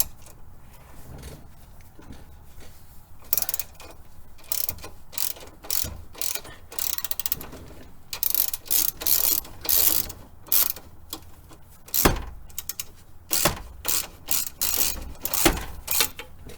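A ratchet with a 15 mm socket works a penetrating-oiled nut on a 1999–2004 Jeep Grand Cherokee WJ suspension, loud close bursts of rapid clicking repeating in uneven strokes with short pauses between.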